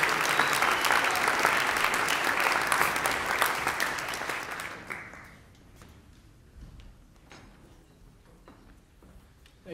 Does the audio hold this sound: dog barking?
no